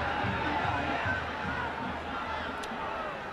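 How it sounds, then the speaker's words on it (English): College football crowd at a 1999 Nebraska vs Missouri game booing a thrown penalty flag, a steady, broad roar of stadium noise under a commentator's voice. "Fans started booing."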